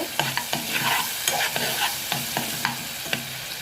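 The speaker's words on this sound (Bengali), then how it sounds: "দুটো সস দিয়ে চিকেনটাকে একটু ভেজে নেব" Chicken pieces frying in a pan with two sauces while being stirred, giving a steady close sizzle punctuated by repeated sharp scrapes and knocks of the spoon against the pan, with no talk.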